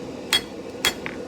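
A straight peen hammer strikes 5160 steel on an anvil during knife forging, with two sharp, ringing blows about half a second apart and a fainter tap after, close and loud over a quiet background.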